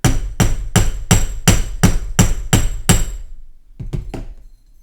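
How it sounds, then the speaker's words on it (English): Eight sharp, evenly spaced hammer taps ring out on metal jewelry wire twists for spiral earrings, close and loud, then a pause and three quicker lighter taps. "And now I'll hammer the twists up here."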